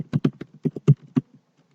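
Several quick, irregular clicks of fingers tapping keys on a computer keyboard, a short burst close by with no talking.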